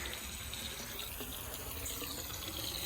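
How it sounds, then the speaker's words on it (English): A garden water hose running into the end of a pool vacuum hose to fill it, giving a steady, close rush of flowing water with no pauses for the full few seconds. "we're simply going to take our water hose and put it in the end like this"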